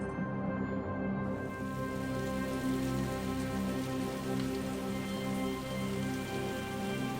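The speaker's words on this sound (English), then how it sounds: "if you're lucky, you'll get rain." Steady rain falling on a surface, a dense continuous patter of drops at an even level throughout, with no voices.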